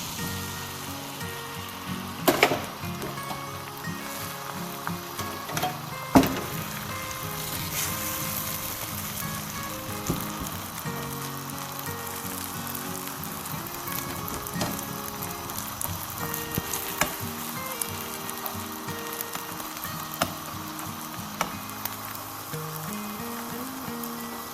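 An egg frying in a spoonful of hot oil in a frying pan while noodles are prepared, giving a steady crackling sizzle with a few sharp pops, close and unbroken, with no talk.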